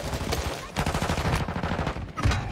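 Rapid bursts of automatic gunfire ring out in a video game, several close, loud volleys of quick repeated shots separated by brief pauses.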